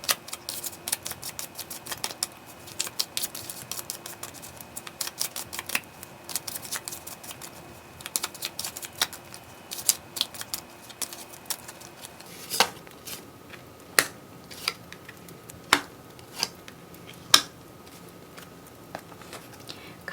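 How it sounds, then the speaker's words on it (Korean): Tarot cards are shuffled close by, a steady run of soft riffling and tapping clicks that gives way to sparser, sharper snaps and taps in the second half, with no voices. "저는 카드를 섞을게요"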